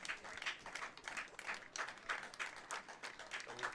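Red Sox baseball fans at an evening game in Regina, clapping and cheering in rhythmic bursts that stay distant and fairly faint, with no voice standing out.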